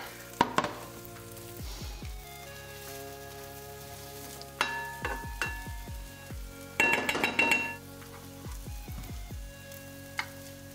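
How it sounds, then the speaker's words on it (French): Butter frying in a pan for rösti, with a soft continuous sizzle and several bursts of sharp metallic clinks and taps from a utensil against the pan, no speech. "Donc petit beurre dans la poêle pour le rosti."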